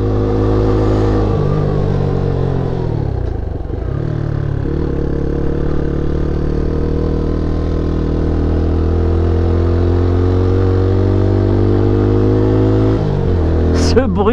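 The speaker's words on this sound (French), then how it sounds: "Ce bruit d'échappement" A Peugeot PM-01 motorcycle's exhaust drones loud and close while climbing the winding road up Mont Faron, a steady engine hum with brief dips as the revs drop and rise again.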